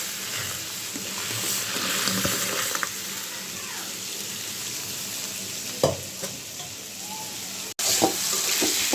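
Dal being tempered with dried black cumin and mustard seeds sizzles steadily in hot oil, a continuous moderate crackle with a few louder clatters and stirring sounds.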